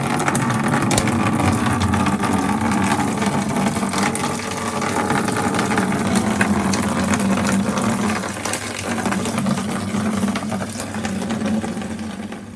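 Home-brewed wort flowing into a fermentation vessel, a continuous splashing, gurgling pour layered over a steady low pump-like hum, with no talking.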